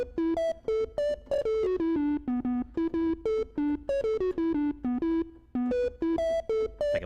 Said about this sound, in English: So that's what caterpillar sounds like as a melody.